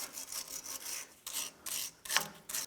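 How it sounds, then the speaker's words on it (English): A wire brush scrubs rust and debris off front lower ball joint parts on a 2007-17 Jeep Wrangler, giving a quiet, rhythmic rasping of short back-and-forth strokes with small gaps between them. "go ahead and you can wire brush any debris or rust off of these"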